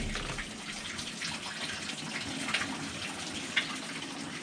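A washing machine fills with water at the start of its rinse cycle, a steady broadband rushing and gushing that stays constant throughout, with a couple of faint clicks partway through.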